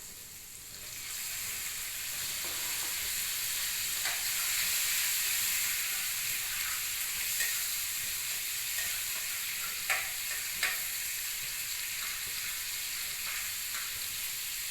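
Food sizzles steadily in a frying pan after a little water is added, with occasional clinks of a spatula as it is stirred. The frying hiss is close and continuous, and no one talks over it.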